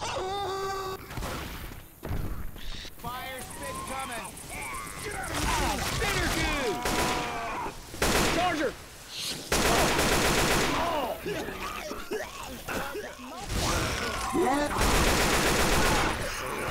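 Repeated gunfire in the zombie shooter Left 4 Dead 2, dense bursts of shots running almost without pause through the whole stretch, loud and close, with in-game sounds and players' voices mixed in.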